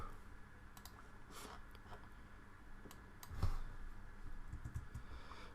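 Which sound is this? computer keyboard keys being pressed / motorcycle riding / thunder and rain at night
computer keyboard keys being pressed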